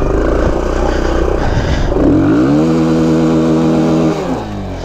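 An engine revs hard in first gear on a rough green lane in Cornwall, a loud, close, strained roar that climbs and holds a steady pitch for a couple of seconds before dropping off, with clattering underneath.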